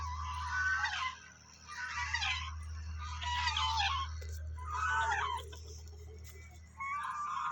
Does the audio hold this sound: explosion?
no